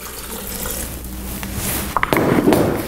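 Water poured into a glass while mixing a homemade drink with cinnamon and ginseng powder, a soft liquid splash building in the last second after quiet room noise, close and alone.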